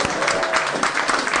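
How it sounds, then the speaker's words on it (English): An audience claps for a hypnotherapist on a comedy podcast stage, a dense, steady wash of applause from a live crowd that fills the whole moment. "give him a hand, everybody"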